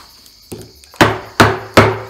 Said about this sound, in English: I swap the chisel around.